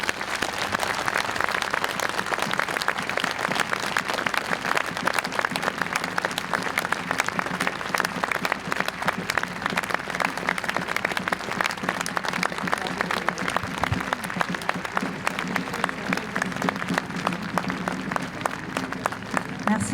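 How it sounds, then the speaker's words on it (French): Sustained crowd applause from a large gathering at an outdoor memorial march against drug trafficking, dense continuous clapping that holds steady and fairly loud throughout with faint voices mixed in. "Et on peut applaudir pour que Mehdi nous entende là où il est."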